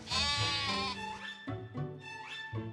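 A sheep bleats several times in a row, loud and close, each call a wavering, nasal cry with short pauses between them.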